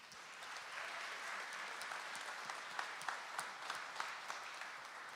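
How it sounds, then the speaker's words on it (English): Applause at a business hall of fame ceremony: a steady, soft wash of crowd clapping from a sizable audience, even and sustained throughout, with a few sharper claps standing out near the end. "So a big round of applause to Janine."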